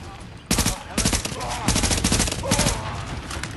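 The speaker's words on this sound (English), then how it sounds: "this is a burst fire, SMG." A burst-fire SMG in The Division fires several rapid bursts of close, loud shots in quick succession, a steady stuttering rattle through most of the clip with a faint voice underneath.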